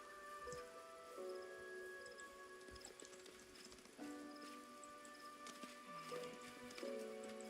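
Horse hooves clip-clop in a video game, steady and moderately loud beneath sustained tonal game music, with no talking.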